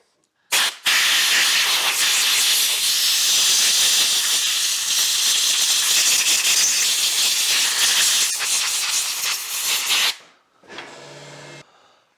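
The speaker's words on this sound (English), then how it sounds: "Blow it dry pretty quick" Compressed air blasting brake cleaner off DeWalt 1/4-inch hex impact driver parts, a loud close continuous hiss lasting about nine seconds, followed by a shorter, quieter burst.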